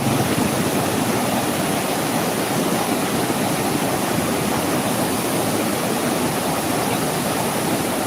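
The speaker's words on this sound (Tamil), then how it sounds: "தண்ணி எப்படி ஓடுது பாருங்க" A stream rushes steadily and loudly at Needamangalam, its broadband flowing-water roar continuous and close with no breaks or voices.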